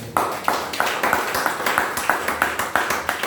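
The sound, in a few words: church congregation clapping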